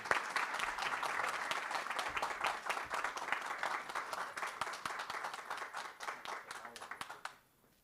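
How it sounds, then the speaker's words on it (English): Audience at a school board meeting applauds an award recipient, a steady round of many hands clapping at moderate distance that holds for several seconds and then stops abruptly. "Big round of applause for Mr. Greg Lovelace."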